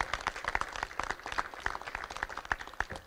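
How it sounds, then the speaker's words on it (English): An audience at a news conference applauds, a dense patter of many hands clapping steadily throughout at moderate distance, with no talking over it. "Let's give Jessica another great big round of applause"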